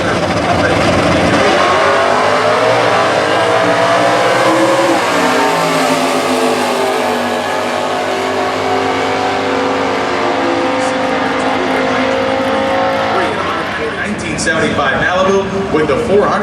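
A 5th generation Camaro with wheelie bars and other Stock Eliminator cars at a drag strip during qualifying, engines roaring and revving loudly and continuously, with an announcer talking over the noise throughout.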